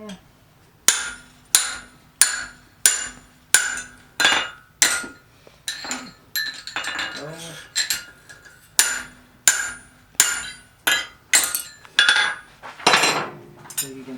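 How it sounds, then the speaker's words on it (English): Hammer blows forging hot metal over a drift at a forge: loud, ringing metallic strikes in a steady rhythm close up, with a short pause and some scraping partway through before the hammering resumes. "Hammer this down a smidge more."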